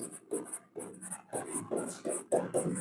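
A pen writes rational numbers by hand on paper in short, close bursts of scratchy strokes with brief pauses between them, steady and moderately loud, with a bit of faint background noise.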